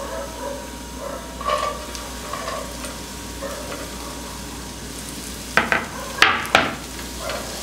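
Garlic fries to golden in a pan, a soft continuous sizzle, then onion is dropped in and stirred, giving several sharp clattering scrapes and louder bursts of hissing near the end; no one speaks.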